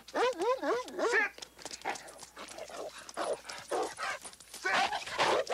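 In a movie scene, a dog barks and whimpers in a rapid run of yips, close and loud, with a person talking over it throughout.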